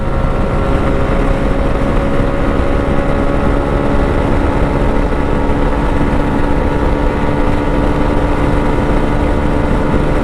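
A Zontes 350T, a 350 cc motorcycle, runs steadily while being ridden at speed in sixth gear, its engine drone loud and continuous with wind noise throughout and no talking.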